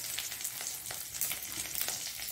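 Curry leaves crackling in hot oil for a tempering, a dense, continuous close sizzle with scattered sharp pops throughout.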